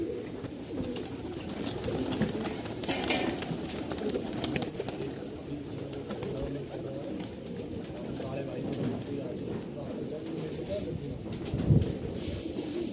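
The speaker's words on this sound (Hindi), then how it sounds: "कबूतर।" Pigeons of Malwai Punjabi and Madrasi breeds coo softly in the background, with one louder burst near the end. People talk over them.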